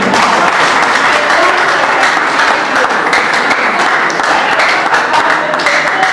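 A large audience claps steadily and continuously at a talk on career planning, dense applause filling the room at a constant loud level with no pauses or speech.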